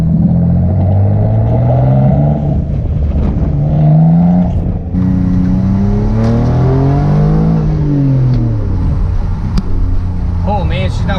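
A restored Mitsubishi 3000GT VR4 engine revs while driving, its loud rising and falling drone sweeping up and down through the gears. Someone talks over the engine noise.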